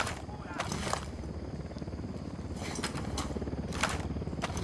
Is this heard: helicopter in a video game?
yes